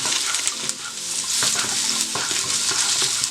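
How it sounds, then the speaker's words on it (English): Mushrooms stir-frying in oil in a pan, giving a bright continuous sizzle with intermittent stirring scrapes, close up and with no one talking. "add our mushrooms. And then stir fry these for about 3 to 5 minutes until they start to go golden brown"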